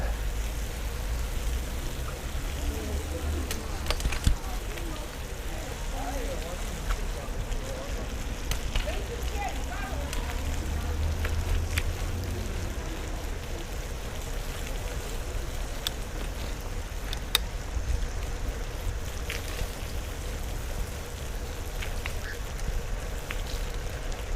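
Steady rain falls during an evening bicycle ride in Hong Kong, a continuous even hiss with a few faint taps and a low rumble underneath.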